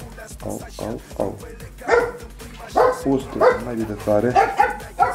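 A dog barks close by in a home, giving short, repeated yips and barks in quick bursts that mix with a person talking.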